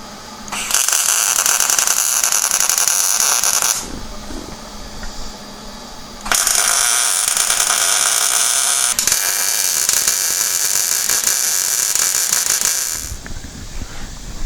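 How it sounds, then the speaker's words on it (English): Welding on the tacked metal frame of a dune buggy comes as a loud, close, steady hissing crackle in two long bursts separated by a quieter pause. "And we'll get it tacked together and I'll weld it up."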